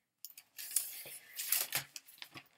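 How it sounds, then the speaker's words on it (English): Very thin onion skin paper, a letter-size sheet, handled up close, giving bright crinkly rustles and crackles in short uneven bursts with brief pauses between them. "really, really thin, but I don't know if you can hear it, but it's super crinkly"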